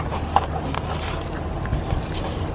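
Spring wind on a day outdoors in Japan gusts steadily into the microphone as a low, rumbling buffet with no clear voice over it.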